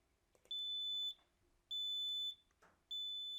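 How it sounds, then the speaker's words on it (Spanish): A Zennio Presentia W2 presence detector's alarm, forced on, emits three loud, sustained high electronic beeps, each about half a second to a second long with short gaps between, in a quiet room. "Cuando yo activo la alarma, una alarma que le he puesto de DTS, de parametrizar de una alarma, la voy a forzar para que la escuchéis."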